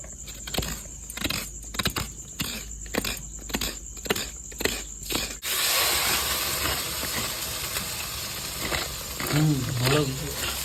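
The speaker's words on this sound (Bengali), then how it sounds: "নারকেলটা আমি গুঁড়ো করে নেবো বঠিতে" Coconut is grated on a dull bonti blade in a home kitchen, first as rhythmic rasping scrapes, then a steadier hissing scrape, with a voice talking in the background near the end.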